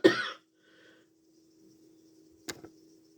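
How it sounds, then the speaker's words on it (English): A single sharp cough right at the start, followed by quiet and a softer second cough-like burst later. "did have to pause you then because it was a proper cough"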